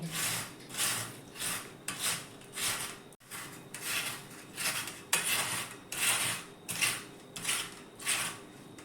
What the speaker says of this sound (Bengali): এই ছিদ্রর সাহায্যে আমি আলুগুলো গ্রেট করে নিব জলে জলের উপরেই আলুগুলো গ্রেট করতে হবে